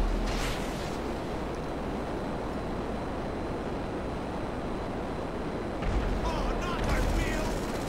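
Dense, continuous gunfire and explosions from a GTA 5 director mode battle, a steady loud roar of shots that swells briefly near the end, with no voices over it.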